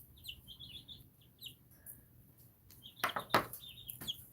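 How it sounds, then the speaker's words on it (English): Baby birds give faint, high, thin chirps in short scattered bursts, along with a few louder knocking taps near the end. The setting is otherwise quiet. "Chirp, chirp, says the baby birds."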